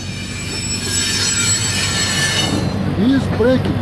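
A Union Pacific freight train hauling Mediterranean Shipping Company containers at a rail ramp brakes with loud, continuous metallic wheel squeal and rumble, close by, with wavering screech tones rising near the end.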